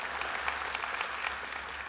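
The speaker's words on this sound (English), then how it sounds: "not all of you have to clap" Steady applause from a talk audience, a dense patter of many hands clapping throughout at moderate, even volume with no voices standing out.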